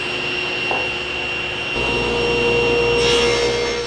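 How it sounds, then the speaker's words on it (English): A SawStop table saw resaws a wooden board, giving a steady, loud whirring cut with a brief rising screech early on and the tone thickening as the blade bites deeper into the wood. "I guide the workpiece through the blade, but I let the saw do the work."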